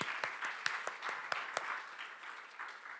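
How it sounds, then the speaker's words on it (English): Audience hand clapping at a social media convention, a scattered round of applause with a few distinct sharp claps standing out, fairly faint and thinning toward the end. "Once again, let's give them a hand clap."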